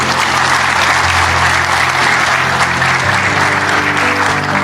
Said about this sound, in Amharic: አጨብጭቡ ለዚህ።